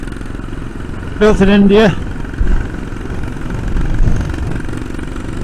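A 1991 Royal Enfield Bullet motorcycle, built in India, idles with a steady low thump beneath someone talking nearby, the engine staying in the background throughout.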